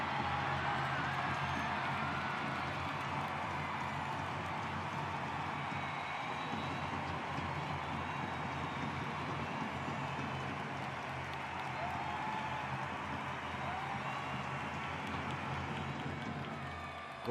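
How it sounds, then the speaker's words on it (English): A large ice hockey crowd roars steadily at the puck drop to start the second period of a Norway against Italy game. The roar is a broad, sustained wash of noise with no breaks. "Great roar from the crowd"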